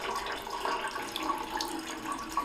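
Tap water runs steadily into a sink while fingernails are rinsed under plain clean water, a constant close splashing hiss with small drips and no talking.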